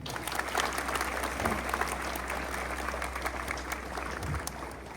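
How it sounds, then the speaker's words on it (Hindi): School morning assembly clapping to welcome inspection panel guests, a steady dense wash of applause from a large crowd of students, fairly distant and even throughout. "तालियों के साथ स्वागत करेंगे।"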